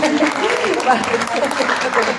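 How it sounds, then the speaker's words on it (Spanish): An audience at a book fair panel discussion claps briefly, with a speaker's voice carrying clearly over the scattered applause throughout. "bravo, un aplauso"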